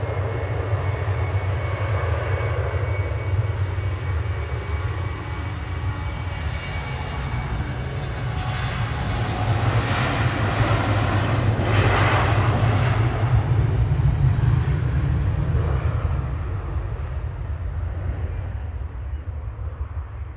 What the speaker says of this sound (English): Finnair heading back to Helsinki now with flight